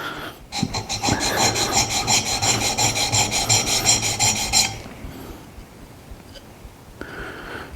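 A Narex 8116 chisel rasps back and forth on a sharpening stone in a fast, steady rhythm of close strokes for about four seconds, then stops, and a fainter scrape follows near the end.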